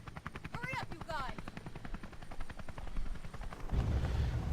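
A helicopter in the video game Resident Evil Revelations, with rapid, evenly spaced rotor thumps chopping steadily throughout, loud and close, while voices talk briefly over it near the start.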